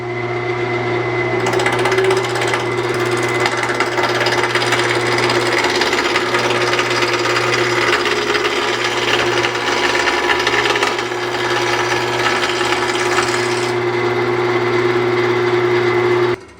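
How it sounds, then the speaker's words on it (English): A wood lathe turns a French rolling pin blank on a duplicator, with a loud steady motor hum and a continuous rasping cut running throughout, close and uninterrupted. "turn my lathe on and slow it down,"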